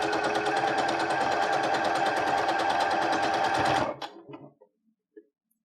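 Sewing machine stitching stretchy leggings fabric with elastic, a loud steady close whir for about four seconds, then stopping with a few faint clicks and handling sounds.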